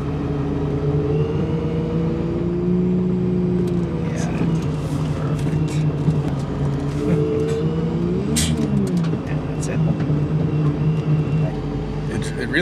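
An off-road vehicle's engine idles and rumbles low and steady while crawling slowly over rough terrain, with brief throttle swells, and people talk over it throughout.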